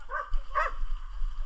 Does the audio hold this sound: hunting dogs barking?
yes